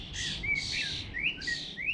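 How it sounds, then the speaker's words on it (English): A robin calling in an English garden, a few bright high trilling phrases with short gaps between them, clear and close over a quiet background. "Oh, and here's the robin."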